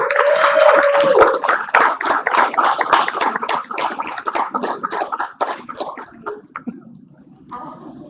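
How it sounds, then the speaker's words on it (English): A conference audience claps loudly with scattered whoops as speakers come to the stage, then the applause thins out and fades toward quieter room sound. "A round of applause."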